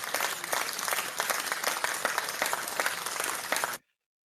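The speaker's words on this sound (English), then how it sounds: "I would put the clapping sound effects." A burst of dense clapping, like a stock applause effect, plays steadily and fairly loud for nearly four seconds, then stops abruptly into silence.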